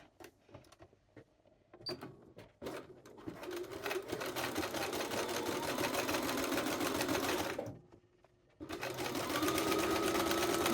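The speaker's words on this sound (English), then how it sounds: "little zigzag on here to just secure those two things together" A sewing machine zigzag-stitching an elastic waistband on trousers starts with a few clicks, then hums steadily at speed, pauses briefly and resumes, close and loud with no talking.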